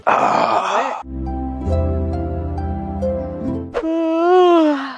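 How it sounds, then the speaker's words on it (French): During an overnight stay-awake challenge, a person lets out a long, loud yawn that swells into a drawn-out groan and trails off, closing with a rising vocal sigh. "Ah j'ai baillé pour la première fois de la vidéo."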